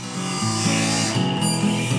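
Steel rasp filing the edges of a freshly cut wooden handle for a child's toolbox, a steady continuous scraping with overlapping strokes, close and fairly loud, no talking.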